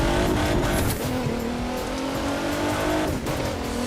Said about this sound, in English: There's a wide variety of cars in this game with amazing sounds.